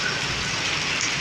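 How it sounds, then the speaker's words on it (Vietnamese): Steady rain pours down during a heavy storm in Kien Tuong town, a dense, even hiss of drops hitting surfaces close by, with no voices. "Đây là mình quay để coi cái mưa lúc 4 giờ rưỡi"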